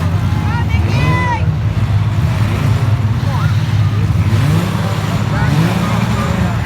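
Demolition derby cars at the Skowhegan Fair arena rev loudly and jostle in a bunched pack, engines rising and falling with sliding whines close by, while a voice talks over the roar.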